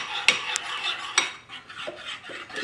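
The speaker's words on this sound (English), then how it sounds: "So give it a good stir." A spoon stirring sourdough starter in a bowl for cranberry orange scones, a few sharp clinks of metal on the bowl followed by softer scraping strokes, close and clear with no talking.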